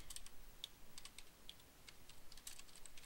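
Quiet, steady tapping on a computer keyboard, irregular keystrokes continuing throughout against a faint hiss.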